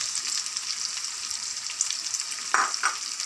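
Carrots hiss and sizzle as they are stir-fried in a pan for pancit Cabagan, a steady close frying sound with a few brief scrapes from the stirring near the end.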